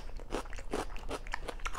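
Raw celery being bitten and chewed up close, with a steady run of sharp, wet crunches in quick succession during a crunchy veggie tray eating session.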